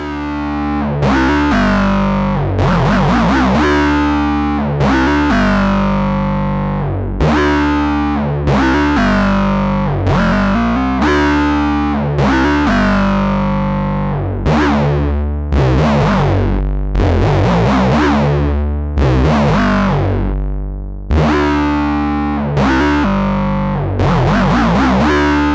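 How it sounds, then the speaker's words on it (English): A gritty, distorted Moog Matriarch synthesizer bass line plays a repeating pattern of plucked notes, some clipped short staccato and others held legato into the next, loud and close with no voices. "now I'm going to play a bass line, and I'll alter how I'm playing using legato and staccato touch"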